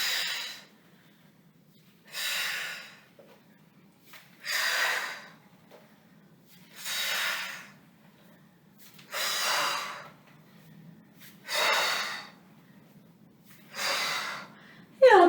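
A group of seniors in a gym class take deep breaths in unison, seven long airy inhales in an even rhythm with quiet pauses between, close and clear over a faint low hum.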